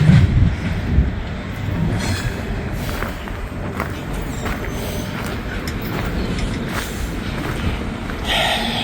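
A coal train rolls past on the tracks, with continuous wheel rumble, rhythmic clickety-clack and occasional squealing wheels, close by and sustained throughout, and wind noise mixed in.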